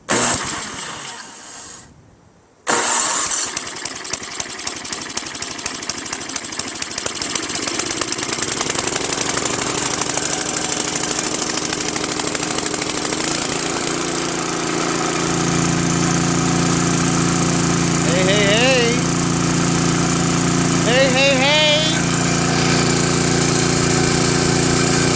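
A Craftsman 522 snow blower with a Tecumseh engine and a freshly cleaned carburetor cranks briefly, pauses, then fires up and runs loud and steady for over twenty seconds, with a faint whine rising near the end.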